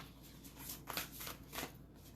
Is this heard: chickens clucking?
no